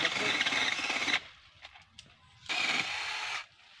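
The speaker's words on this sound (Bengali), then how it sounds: "ইলেকট্রিক মেশিন, এটা চার্জ দিলে কাটা যায়।" A battery-powered electric saw cuts through a guava tree branch outdoors in two loud rasping bursts of about a second each, separated by a quiet pause with light rustling.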